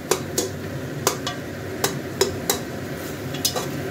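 Garlic is mashed with a spoon in a frying pan, sharp metallic taps striking at an uneven rhythm over a soft sizzle, close and moderately quiet with no talking.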